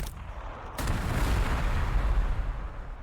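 Missile launchers firing in the Warhammer 40,000: Sanctus Reach strategy game: a sharp launch blast near the start, then a loud rumbling barrage of booms and crackling impacts that carries on to the end.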